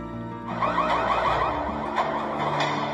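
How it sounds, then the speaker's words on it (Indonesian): An electronic alarm sounds with a rapid pulsing, warbling tone over a muffled background, moderately loud and continuous. "mendengar suara alarm itu"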